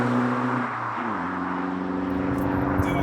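A diesel BMW X1 with a straight-pipe exhaust idles and revs in a deep, loud, rumbling drone, its pitch dipping and then steadying, heard up close with no talking.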